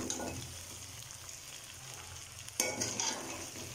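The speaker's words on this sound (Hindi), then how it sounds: "देखिए तमाम मसाले भुन रहे हैं।" Spices frying in a karahi with aloo give a steady close sizzle, and a sharper hiss flares up near the end as the mixture is stirred.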